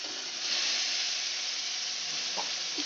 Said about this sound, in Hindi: इसको हमने हल्का सा फ्राई करना।